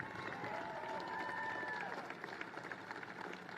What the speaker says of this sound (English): Give me a big round of applause for these Penn Energy team.